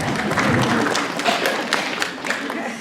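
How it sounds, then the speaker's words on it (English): Applause at a school holiday concert and hall of fame evening: continuous clapping from a crowd, steady and fairly loud throughout, with some voices blended in. "I will clap for you"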